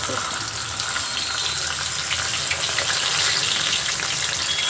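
Fish frying in hot oil in a pan, a steady close sizzle and crackle running throughout at an even level with no pauses.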